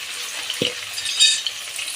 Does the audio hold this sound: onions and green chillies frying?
yes